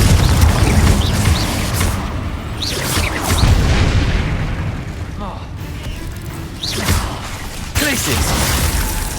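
Confringo blasting spell explosions in the video game Hogwarts Legacy, repeated loud booms with bursting crackle and debris, recurring every couple of seconds over dense game effects and music.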